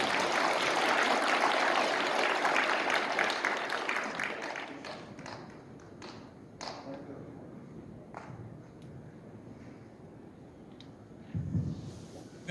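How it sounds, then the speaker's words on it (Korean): Applause from an audience at a community redevelopment briefing greets a spokesperson walking to the podium, a dense burst of clapping that thins out and fades into scattered taps and light thuds. "우리 국민의힘 김민수 대변인을 먼저 박수로 단상으로 모시도록 하겠습니다."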